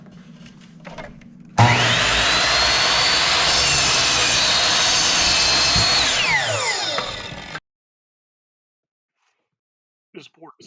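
A power saw rips a 6-inch-wide wooden board into 1-inch strips, a loud sustained whine starting abruptly, holding steady for about six seconds, then winding down to silence.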